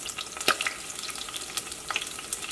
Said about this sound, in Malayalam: ഇതെല്ലാം കൂടിയിട്ടൊന്ന് വഴറ്റിയിട്ട് എടുക്കുക